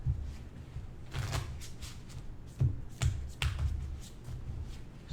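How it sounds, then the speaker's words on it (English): Playing cards shuffled by hand during an Omaha poker lesson, heard as quick riffling and snapping bursts with a few sharper slaps, close and moderately loud, with no talking. "Just a little shuffle action."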